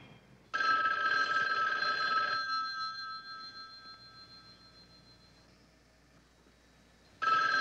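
A telephone bell rings indoors in a loud, steady burst of about two seconds. After a quieter pause, it starts ringing again. No voices are heard.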